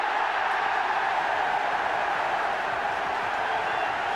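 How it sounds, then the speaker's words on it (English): A football stadium crowd cheering at a 1983 Luton v Spurs match, a broad, sustained roar of fans heard from a distance that stays steady throughout with no single voice standing out. "And the fans cheering"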